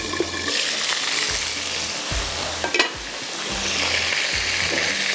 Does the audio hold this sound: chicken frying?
yes